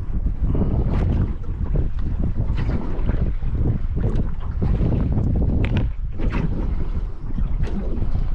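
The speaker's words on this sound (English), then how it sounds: "the wind's holding us, pushing us this way a little" Wind gusting across an open fishing boat on the water during a low-tide soft plastics session, a loud continuous buffeting roar with rough microphone wind noise throughout.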